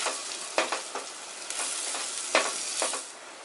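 Green chili and ginger fry on low heat in a pan, a soft steady sizzle with a few stirring clicks and scrapes scattered through it, up close and without voices.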